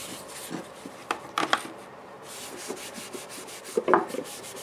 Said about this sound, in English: I'll just rub a few coats in.